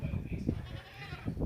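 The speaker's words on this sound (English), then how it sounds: "And some of the goats too." Goats on a small farm bleat close by among free-range chickens, several short wavering calls mixed with a voice speaking over the animals.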